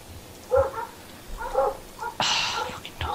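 Dogs barking in a video game, a few sharp barks spaced out, then a louder burst of noisy rustling, fairly close and clear.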